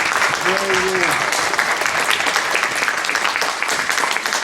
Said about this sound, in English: let's give an applause for the documentary